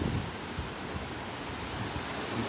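Hurricane Nicole wind and rain roar outdoors as a steady broadband wash with gusty low rumble, loud and continuous throughout without any voices.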